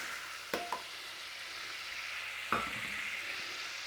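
Butter and flour cooking together in a pan over a low flame as a roux for Welsh rarebit give off a faint, steady sizzle. A few sharp knocks of a utensil sound against the pan.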